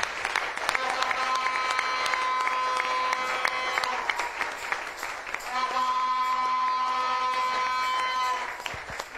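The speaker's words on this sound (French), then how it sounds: "Acclame très fort le Seigneur." Church congregation applauding and cheering for the Lord, sustained clapping and shouting while sustained musical tones play along, breaking briefly midway and then resuming at full strength.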